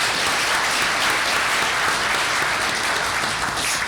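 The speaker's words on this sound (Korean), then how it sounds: "김 부사장님께 여러분 박수 좀 부탁드리겠습니다." Attendees at an energy policy forum give warm applause for a company vice president, a steady, full-room clapping that holds evenly throughout.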